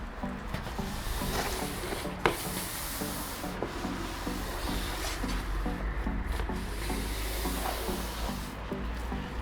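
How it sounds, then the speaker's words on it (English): A stiff brush scrubs baked-on algae from foam-covered cladding, making a close, steady rasping rub broken into regular back-and-forth strokes, with one sharp knock partway through. "Now I'm going to run the brush over it and see how we get on."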